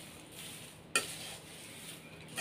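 A spoon stirs fried corn and flattened rice chudwa in a pan, giving a soft, faint scraping and rustling with one brief clink of metal near the start.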